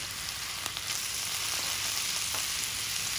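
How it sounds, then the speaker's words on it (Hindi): Minced meat fries with ginger and garlic in a pan for samosa filling, giving a steady, even sizzle with a few faint stirring clicks, close and alone. "अब इसको हम अच्छे से भूनेंगे।"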